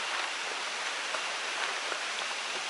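Steady, moderate rain falls during a jungle trek, producing an even, continuous hiss of drops on leaves and ground with no voices.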